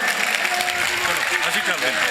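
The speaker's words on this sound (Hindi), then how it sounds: "जोरदार तालियों से स्वागत करें इमरान प्रतापगढ़ी जी का।" Dense, sustained clapping from a large crowd fills the space, with a voice carrying over the applause.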